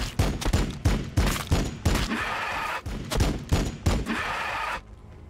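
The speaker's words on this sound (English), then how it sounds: "Firing on the enemy." Volleys of gunfire from the Warhammer 40,000: Battlesector wargame, about seven loud rapid bursts in quick succession, each crack trailing into a short rumbling decay, with a brief lull in the middle.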